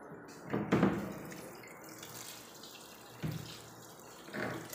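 Water runs quietly from a tap, with a couple of louder splashes and gushes near the start and end.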